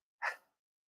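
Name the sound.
sneeze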